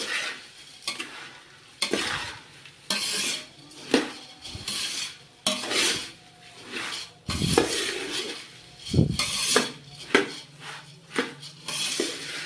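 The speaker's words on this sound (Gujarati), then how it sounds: "તો આપણે આને મિક્સ કરી લેશું." A spoon scrapes and clatters against a pan while chevdo snack ingredients are mixed, the irregular stirring strokes sounding close over a faint sizzle.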